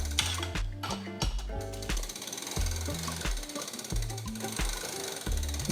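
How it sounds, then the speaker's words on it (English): The freewheel of a Magnum Ranger 2.0 bicycle ratchets as its pedals are spun backwards while being tightened with a 15mm box wrench: loud, close, rapid clicking in repeated bursts, with no talking. "while we're tightening it, if we spin the pedals backwards"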